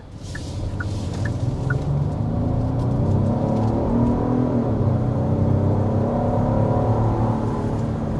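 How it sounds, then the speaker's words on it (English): A Genesis GV80 Coupe accelerates hard up to 60 mph, its engine rising in a steady climbing drone under heavy road and wind rumble, close and continuous with no talk. "we need to go ahead and start with a hard acceleration"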